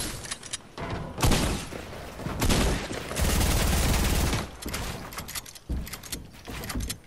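Rapid bursts of gunfire from a Fortnite battle royale match, with a sniper firing among the shots, crack out loud and close in repeated volleys, some sustained for over a second, with short quieter gaps between them.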